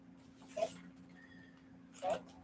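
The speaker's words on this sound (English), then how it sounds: "I apologize for a little bit of dog training in the background." A dog whimpers in the background during a dog training session, with two short, faint whines about a second and a half apart over low room hum.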